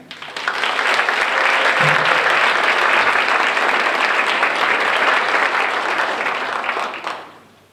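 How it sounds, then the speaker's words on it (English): An audience at an academic recognition ceremony applauds in a loud, sustained burst of clapping that swells quickly, holds for several seconds, then tapers off. "Let us now have a round of applause for Cameron Mackey."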